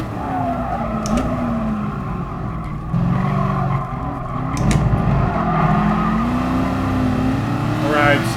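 A Cobra race car in Gran Turismo Sport drones steadily as the engine note rises and falls through gear changes, with brief tire squeals and skids over continuous motor noise at close range.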